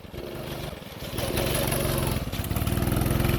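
Small Honda GX200 engine on a mini go-kart driving on sand, a buzzing, pulsing engine note that grows louder as the kart approaches and keeps a rapid putter, with no one talking.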